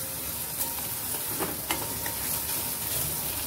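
Onion with a pinch of asafoetida sautéing in a pan, a steady soft sizzle throughout with a couple of light spoon taps and stirring scrapes.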